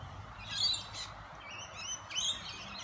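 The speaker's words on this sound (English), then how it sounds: "when Christy comes out here, the birds hardly move" Garden birds fed with bread give short bursts of high chirps and tweets, a few clustered calls rising over a steady low background hum, fairly close and moderately loud with no talking.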